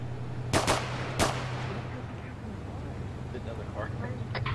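Two sharp, loud gunshots crack close together in the Arma military game, then quieter distant shots over a steady engine-like hum, with voices talking throughout.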